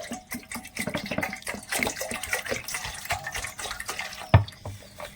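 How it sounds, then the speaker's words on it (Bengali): Water pours into a bowl in a kitchen while making raw mango preserve, with steady splashing and trickling throughout and a sharp clink near the end. "বাটির মধ্যে কিছুটা মতো নিয়ে নিচ্ছি জল"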